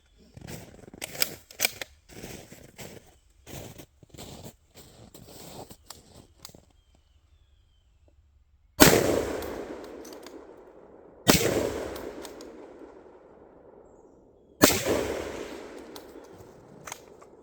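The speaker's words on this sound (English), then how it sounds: "I'm going to do my best here to shoot as fast as I can" A Ruger Gunsite Scout rifle fires three loud, close shots at a steel target, a few seconds apart, each with a long echoing decay. Rapid mechanical clicks and handling noise come before the shots.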